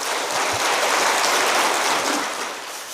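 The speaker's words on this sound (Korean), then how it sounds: "우리 큰 박수로 환영하겠습니다." A church audience at a Lunar New Year praise concert breaks into loud, dense applause to welcome a pastor, a continuous rain-like wash of many hands clapping that swells and then slightly fades.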